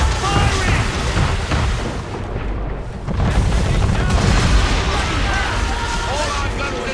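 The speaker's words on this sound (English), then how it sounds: "Man of war firing!" A man-of-war warship in Assassin's Creed III fires its cannons, a loud, sustained roar of booming blasts and chaos with shouting voices over it.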